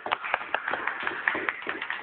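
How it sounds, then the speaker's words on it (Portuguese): A congregation applauds at a Corpus Christi church service, a brief burst of rhythmic clapping at moderate distance with a faint voice. "Vamos dar uma salva de palmas para a palavra de Deus."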